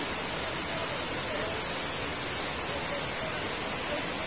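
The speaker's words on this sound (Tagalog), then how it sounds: "Gusto po sana tumigil na po yung ulan, no?" Heavy rain falls during a flood as a dense, steady hiss of downpour, loud and unbroken throughout, with no other sounds standing out.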